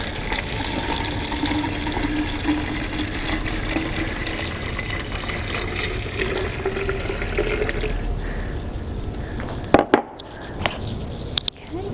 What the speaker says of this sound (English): I've already heated up my water, so I'll pour this in.